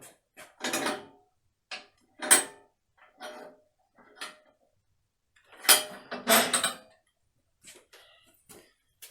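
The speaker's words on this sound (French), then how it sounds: "je vais serrer. Je vais resserrer bien fort mes longs serre-joints" Long bar clamps are ratcheted tight on glued wood, making separated metallic creaks and clicks in short bursts, close and fairly loud with quiet gaps between turns.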